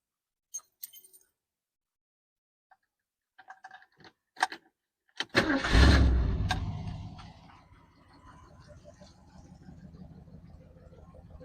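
A few faint clicks and rattles come first, then a van engine cranks with a sudden loud burst and settles into a steady low idle rumble nearby.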